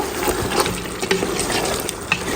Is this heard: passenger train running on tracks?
no